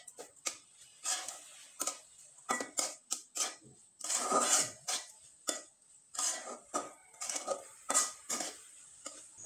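A spoon scrapes and knocks through a sugary paste in a pan over low heat. The strokes are short, quick and irregular, close by and fairly quiet, with no voices.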